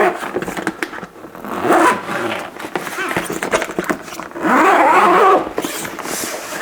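A Vulcan Arms WeatherLock waterproof rifle case is being unzipped, with a couple of raspy zipper pulls, the longer one near the end, close up among handling noises and someone talking.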